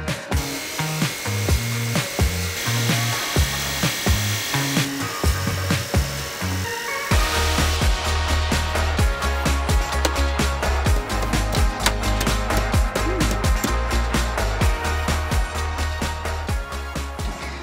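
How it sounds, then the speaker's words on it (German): A power saw cuts a hole into the gas box of a camper van conversion. It makes a continuous, buzzing, rhythmic rasp that gets louder and denser partway through and then runs steadily. "Wir müssen jetzt natürlich auch noch das Loch in unseren Gaskasten reinsägen"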